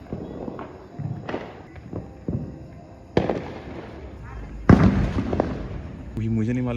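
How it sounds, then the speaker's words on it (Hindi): Diwali firecrackers bang outside at night, a scattered run of sharp loud cracks at irregular intervals, the strongest near the middle, over a busy background of street noise and voices. "लिटरली पटाखों की आवाज़ आ रही है ना अभी।"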